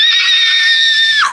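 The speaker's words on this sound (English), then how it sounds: "scream on the top of my lungs" A person screams at the top of their lungs, one loud, sustained high-pitched shriek lasting over a second and breaking off sharply at the end.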